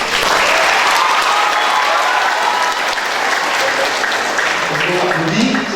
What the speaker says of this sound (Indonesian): Saya appreciate tepuk tangan untuk Pak Nur.